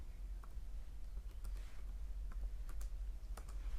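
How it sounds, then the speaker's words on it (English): Steady typing on a computer keyboard, with irregular key clicks and a few sharper taps, heard fairly close over a low background hum. "I'm typing in English again"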